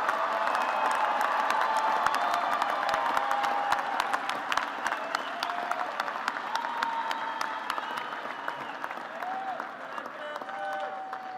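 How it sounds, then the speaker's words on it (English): A large audience at a Virginia Tech fall university commencement applauds graduating candidates from the College of Liberal Arts and Human Sciences, with steady dense clapping throughout, some cheering mixed in and a faint murmur of voices. "Let us applaud these candidates from the College of Liberal Arts and Human Sciences."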